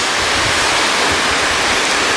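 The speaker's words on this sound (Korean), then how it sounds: "자, 여기가 폭포함." Waterfall at a scenic Korean mountain spot near a hermitage, a loud, continuous roar of falling water, close and unbroken throughout.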